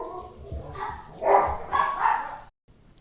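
Several dogs bark and yip indoors in a few loud, close bursts with some whimpering, then fall quiet at the end.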